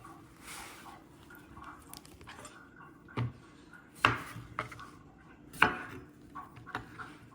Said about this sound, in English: now I'm gonna slice it and leave aside